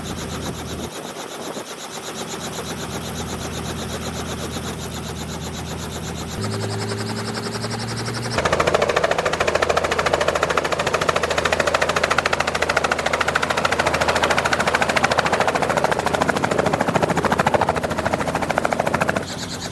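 A helicopter sets down in a backyard, its rotor thumping steadily and loud with a heavy engine whine, the noise swelling stronger partway through as it comes in close and lands.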